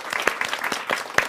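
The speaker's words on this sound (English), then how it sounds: "that is worth a round of applause" Audience applause at a workplace wellbeing summit, a steady patter of many hands clapping through the short stretch, fairly close and full, with a few sharper individual claps standing out.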